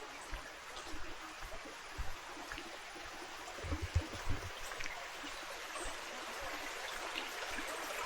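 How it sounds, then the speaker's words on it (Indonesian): A river stream flows continuously beside a coconut tree at a terraced retreat in Bali, a steady broadband rush of water with small irregular splashes throughout. "aliran sungai yang nggak pernah berhenti"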